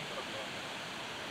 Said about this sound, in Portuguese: Os barulhos da água é muito chamativo.